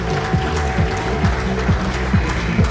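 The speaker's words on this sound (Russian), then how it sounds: "Ваши аплодисменты всем чемпионкам." An audience applauds the female champions at a competition: a sustained, dense patter of clapping with a recurring pulsing tone beneath it, and no talking.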